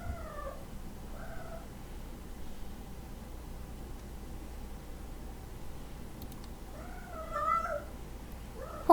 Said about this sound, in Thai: แมวร้องอีกแล้ว